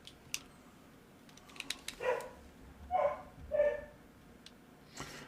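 A dog barks faintly in the distance, three or four muffled woofs spread over several seconds, among soft clicks and taps like typing in a quiet room.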